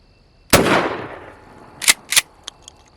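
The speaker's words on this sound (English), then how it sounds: "And then with the Winchester PDX, we're going to shoot toward the bottom." A Mossberg 590 Shockwave .410 shotgun fires a single loud, near shot of Winchester PDX defense ammunition, its sharp blast trailing into a long echo, followed by a few quick metallic clinks and knocks.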